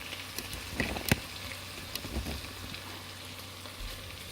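Diced bacon sizzling and rendering in a pot, a soft steady crackle and fry with a few brief pops and clinks, close and without speech.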